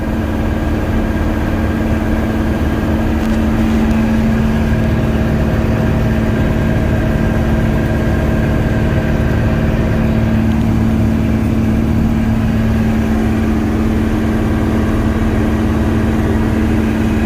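Steady, loud drone of a tractor engine and a combine running together while harvesting oats in a field, an unbroken low hum with a sustained tonal whine that stays constant throughout.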